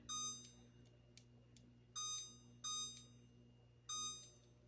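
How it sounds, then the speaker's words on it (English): A kitchen timer is set during skillet-meal cooking and gives several short, high, faint beeps, single and in quick pairs, over a steady low kitchen hum. "I'm going to put this timer on"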